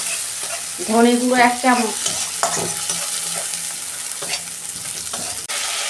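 Cumin and coriander spice paste fries in a pan with a constant close sizzle and repeated scraping stirs, while someone briefly speaks over it near the start.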